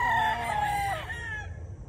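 A rooster crows loudly and close at a small poultry farm, a single drawn-out cock-a-doodle-doo over low farmyard background noise.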